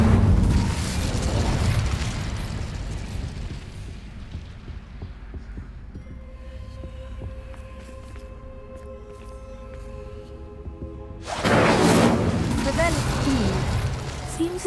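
The Incendio fire spell is cast in Hogwarts Legacy, a deep throbbing, booming whoosh with a low hum in between, then a loud burst of flame near the end, with a voice talking over it.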